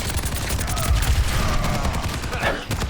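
Dense, loud gunfire from Soldier in Overwatch 2, with Helix rockets launched among the shots, running as a continuous barrage of impacts for about three seconds.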